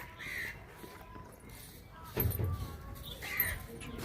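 Outdoors, a bird gives a couple of harsh, crow-like caws at moderate distance, spaced apart against a quiet background.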